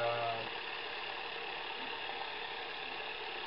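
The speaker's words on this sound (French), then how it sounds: "Ah, c'est un bon tracteur. Un bon tracteur. Un tracteur qui chauffe très vite" A Zetor tractor engine in a farming game mod runs at a steady idle, a constant mid-pitched hum with no change in speed.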